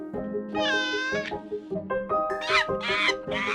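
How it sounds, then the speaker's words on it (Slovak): A kitten meows several times in a row, clear and close, with bright harmonic cries of varying length and pitch following one another. "Ja som mačiatko a volám sa Mia."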